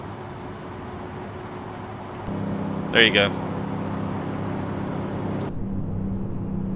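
A truck in American Truck Simulator runs in 7 low at low RPM, a steady low engine drone that steps up in loudness partway through, with a brief spoken remark over it.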